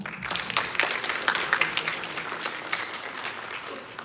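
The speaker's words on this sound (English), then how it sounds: "Give them a hand clap." A high school audience claps in a talk setting, with scattered, uneven hand claps at moderate loudness throughout, tapering slightly toward the end, and some faint voices underneath.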